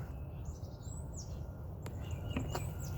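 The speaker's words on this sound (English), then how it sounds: "Birds sound good this morning." Several birds chirp and whistle in short calls and sweeping notes, moderately distant, over a low steady outdoor rumble.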